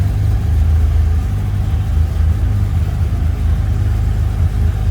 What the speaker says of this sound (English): Give it a rev, quick.